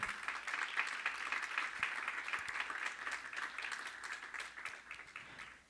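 A church congregation claps in worship, a soft, distant, continuous spatter of many hands with faint voices mixed in.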